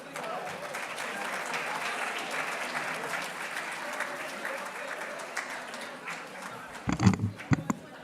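At a 2023 Downstate honors ceremony, a crowd applauds the awardees with sustained, dense clapping that fades after about six seconds. A few louder thumps follow near the end.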